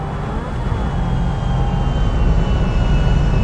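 A large airplane in GTA V roars overhead as a steady, loud engine drone with a faint high whine, holding constant for a few seconds without talk.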